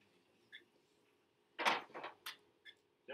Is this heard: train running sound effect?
no